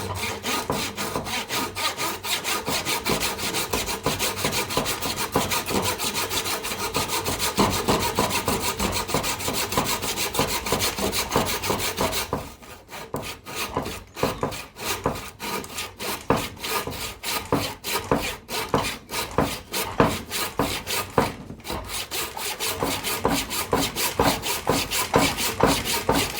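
A hand saw rasps back and forth through wood cutting a joint at a slight angle, with fast, even strokes throughout and a brief change in rhythm midway.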